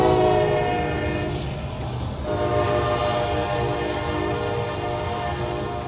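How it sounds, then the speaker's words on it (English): A Norfolk Southern freight train approaches near the historic Lula depot, its horn blaring a loud, sustained multi-tone chord for the whole stretch over a low rolling rumble, with no voices. "we knew that this train was going to be coming up soon"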